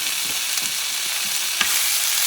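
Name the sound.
leftover turkey meat frying in a pan with oil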